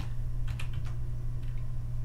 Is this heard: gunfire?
no